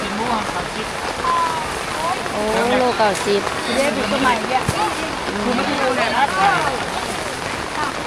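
Rain patters steadily on covers and stalls at an outdoor Sunday morning market, a constant wet hiss under nearby talk as vendors and shoppers chat and call out prices.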